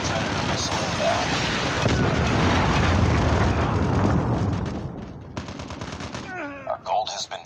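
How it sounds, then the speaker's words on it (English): A Predator missile strike in a Call of Duty Mobile capture-the-flag match erupts as a loud, sustained roar of blasts and gunfire that fades after several seconds into scattered game sounds. "Friendly Predator missile inbound."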